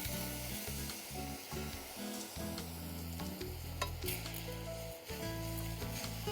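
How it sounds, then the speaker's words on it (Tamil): Grated ash gourd and rock sugar being stirred in a hot pan, with a continuous sizzle broken by repeated scraping strokes of a spoon at an uneven rhythm, close and fairly quiet. "இரண்டையும் சேர்த்து கிளறோம்."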